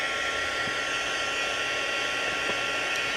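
A heat gun heating the cover of a Little Golden Book blows a constant, even airy roar that stays loud and unbroken throughout, with a couple of faint light clicks and no talking.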